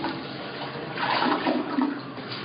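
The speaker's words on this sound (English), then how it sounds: "This is the first flush of the toilet." A toilet flushes for the first time, a steady rushing and gurgling of water that swells midway and stays fairly close, with no voices over it.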